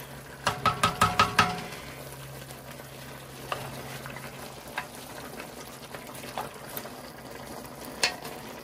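Ragu alla Napoletana with caramelized onions and meat being stirred in a pot: a quick burst of spoon knocks against the pot, then slow scraping and occasional single clinks over a low simmering sizzle, fairly quiet and close.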